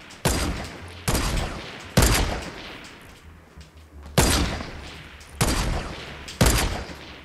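Six loud, sharp semi-automatic sniper rifle shots from a Fortnite match, each with a short, booming tail, fired at a steady pace about a second apart, with a brief gap in the middle.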